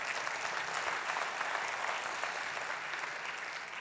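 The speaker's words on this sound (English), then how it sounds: "You can give them a round of applause." A crowd at a city's State of the City address applauds the communications team, a dense, even roar of clapping that holds steady for several seconds with almost no talk.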